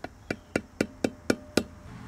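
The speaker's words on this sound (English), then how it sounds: "I'm gonna take my dead blow hammer and go ahead and tap," Dead blow hammer tapping a new seal into an RV trailer hub, seven even, dull knocks about a quarter second apart, close and clear.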